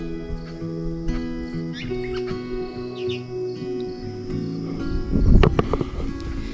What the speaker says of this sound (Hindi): यहाँ पे चिड़िया चहचहा रही है।